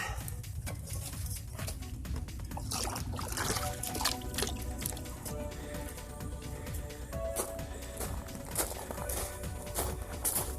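Water trickles and splashes onto the soil around a young passion fruit plant in a pot, a steady close pouring sound with soft outdoor birdsong in the background.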